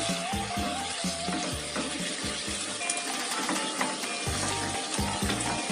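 Pineapple chicken gulai bubbling and sizzling steadily in a pan right after coconut milk goes in, a continuous close, moderately loud simmer under intermittent low background music.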